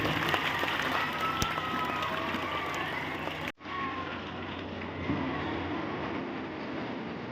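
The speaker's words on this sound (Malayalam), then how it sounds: "മണവാട്ടിക്കും തോഴിമാർക്കും ചേർന്ന് എല്ലാവരും നല്ലൊരു കയ്യടി കൊടുക്കുന്നതോടെ" An audience claps for the bride and her bridesmaids at a wedding, steady dense applause from a crowd that cuts out briefly midway and then resumes at a similar moderate level.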